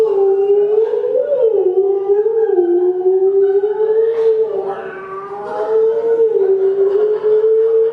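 A person imitates a cat with a loud, sustained vocal yowl, a wavering howling meow that rises and falls continuously throughout, close to the microphone with no other sound.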